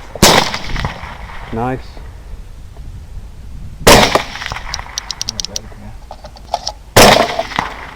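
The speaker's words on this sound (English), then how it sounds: "This little 40-pound hog ends up taking at least 4 shots." Three loud, sharp gunshots at a 40-pound hog during a hog hunt after a polar vortex storm, spaced a few seconds apart outdoors, with a man's brief spoken remark between them.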